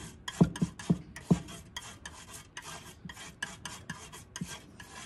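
A palette knife scrapes and mixes paint on a palette in short, close, rasping strokes, several sharp scrapes at first followed by softer rubbing passes, quiet and without talk.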